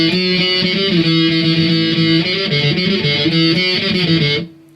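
Distorted electric guitar plays the intro riff of a song: loud, close power chords in a driving pattern that stop abruptly near the end, with no talking.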